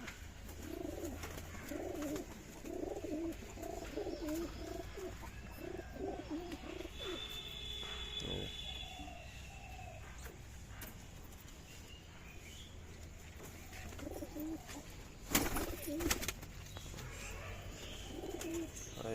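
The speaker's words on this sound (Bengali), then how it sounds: "এই হচ্ছে পায়রাগুলো সব অপেক্ষায় বসে আছে" Pigeons, including Kaldoma birds, coo softly inside their coop in repeated low, throaty phrases throughout, joined by a few faint chirps and a brief clatter near the end.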